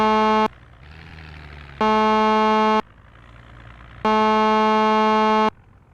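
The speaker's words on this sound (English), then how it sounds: "Sorry for the honking. I know it's an annoying noise." A car horn honks in the zombie-survival video game Project Zomboid: three long, loud, flat buzzing blasts, each roughly a second long, separated by short gaps filled with a low idling engine hum.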